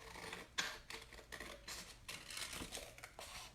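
Scissors trimming a tattoo decal for a glitter tumbler make a few faint, quick snips spaced about half a second apart, close and quiet with no talk.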